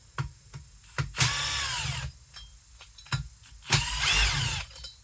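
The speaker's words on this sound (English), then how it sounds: "I'm going to have to actually shave a little bit off this side of the transfer tunnel because it's hitting the flywheel" A power tool grinding metal off the transfer tunnel of a two-stroke engine case, where it rubs the flywheel, whines up in two loud bursts of about a second each, with short clicks and taps between them.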